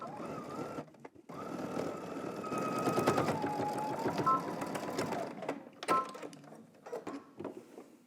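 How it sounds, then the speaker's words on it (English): A sewing machine top stitches a folded-down flap on pants, running in bursts of steady whirring stitching broken by short pauses, close and clear with no talking. "And you're gonna top stitch."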